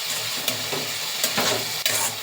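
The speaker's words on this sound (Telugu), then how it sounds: "సాల్ట్ వేసుకున్న తర్వాత కొంచెం సేపు తిప్పుకోవాలి." Salted tomato pulp cooking in a pan is stirred with a spoon, giving a steady low sizzle with a few scraping strokes at intervals, close and moderately loud, with no voices.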